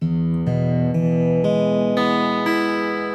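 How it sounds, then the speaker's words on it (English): A guitar tuned to open E strummed in a steady series of ringing chords, about six even strokes, each sustaining brightly into the next. "My dad would tune my guitar to open tuning E, which sounds like this."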